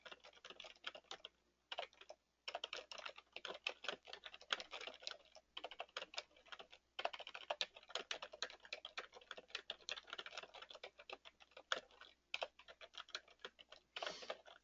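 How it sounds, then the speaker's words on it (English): Close-up typing on a computer keyboard as an article title is entered, fast irregular runs of crisp key clicks with brief pauses between words, heard alone at low volume. "So we're going to type in the title of the article"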